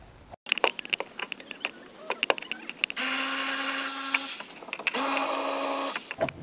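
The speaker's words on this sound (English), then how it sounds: "You get these cordless" A cordless ratchet removes bolts on a 2011-2017 Dodge Journey during an alternator replacement, with scattered clicks and taps followed by two sustained, high whirring bursts of the ratchet spinning, close by.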